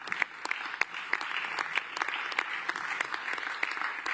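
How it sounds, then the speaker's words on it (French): Audience applause for newly elected deputies at a Paris political gathering after legislative elections, steady dense clapping with sharp individual claps throughout, moderately loud and continuous. "Vous pouvez les applaudir"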